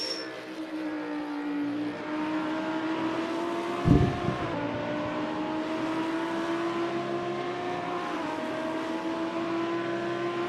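Race cars drone through a corner at Mosport in the simGT sim racing game, their engines a steady sustained tone that briefly dips and flutters. A short thump near the middle breaks the drone, with no talking.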